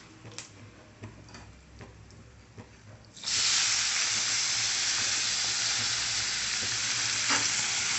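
Ingredients for a pineapple gojju tempering: a quiet pan ticks softly for about three seconds, then a loud, broad sizzle bursts up as they hit the hot oil and keeps hissing steadily to the end.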